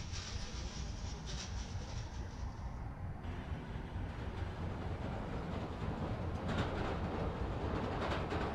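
A train passes in the Spider-Man: Miles Morales video game, a steady, full rumble with a rolling rail clatter that swells toward the end, with no talking.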